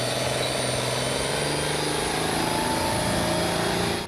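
Powerful tractor engines roar at a tractor pulling competition, a loud and dense continuous drone that holds steady throughout.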